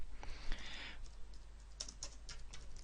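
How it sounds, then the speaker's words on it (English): A computer keyboard is typed on, with Shift and Enter pressed, giving a few soft, close key clicks and taps spread over a couple of seconds, with no voice. "instead of hitting the Enter key here, I'm going to hit Shift and Enter."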